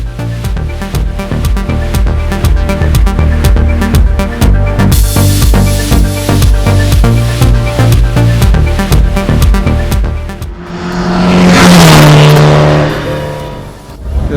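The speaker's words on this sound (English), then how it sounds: "the cars are starting to show up" Porsche cars arrive at a Porsche Club of America track day. A loud, close engine drones with pulsing tones, then one car revs up and sweeps past near the end.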